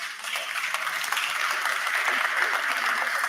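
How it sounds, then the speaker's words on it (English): Audience applause at a sports press congress, a steady wash of many hands clapping at moderate level, continuous and even throughout, with no talk over it. "I think that they deserve the applause"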